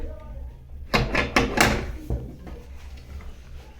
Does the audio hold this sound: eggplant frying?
no